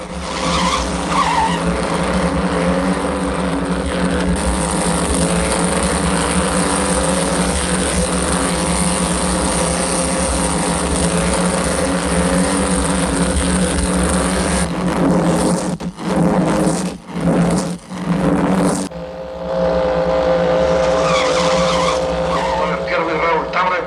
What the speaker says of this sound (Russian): С первого же круга гонщики взяли быстрый темп.